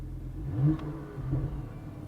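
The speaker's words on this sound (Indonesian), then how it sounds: "Sport Plus juga dia lebih in lagi suaranya. Kita gas coba ya." A 2023 Porsche Panamera 4 E-Hybrid revs in Sport Plus mode, giving a steady mid-low engine drone that swells twice, near and moderately loud, with no talk.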